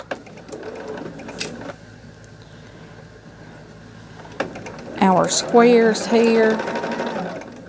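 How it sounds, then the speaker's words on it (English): A sewing machine stitching two fabric pieces together for quilt squares, running in quick mechanical bursts with pauses between; someone talks over the final stretch. "I'm just sewing these two together to make our"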